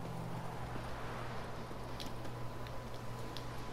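Horse hooves trot steadily in The Witcher 3, a soft continuous clip-clop under a dense, steady game soundscape with a constant low hum.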